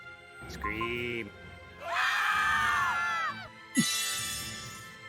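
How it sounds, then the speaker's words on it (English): A scream sound effect fires as a livestream redeem: a shrill, sustained screaming voice in two long bursts, loud and close, with a brief gap between them and no talk over it. "Scream."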